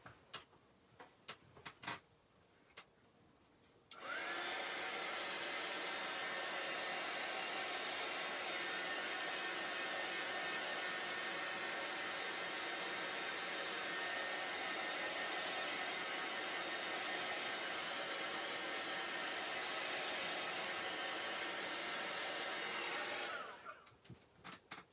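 A handheld dryer blows on chalk paste over a DIY pumpkin patch sign, a loud, steady whooshing roar that runs for about twenty seconds between a few light clicks at the start and end.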